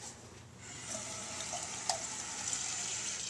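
Water is poured into a neti pot for a sinus rinse, a soft, continuous trickle with a faint splash partway through, quiet and close.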